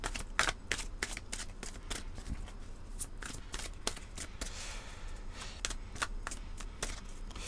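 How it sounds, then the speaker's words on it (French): Oracle cards of fantastic beings are shuffled by hand close up, a long run of quick riffling bursts and soft flicks repeating at an uneven rhythm, with a faint low background hum. "prendre ici l'une des cartes de l'oracle des êtres fantastiques"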